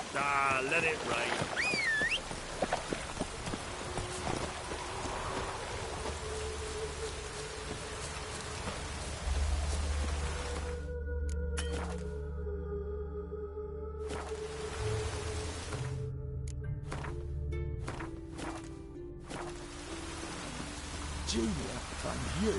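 Rain falls in The Witcher 3 video game, a continuous wash of steady rainfall with sustained tonal sounds layered over it and no talk.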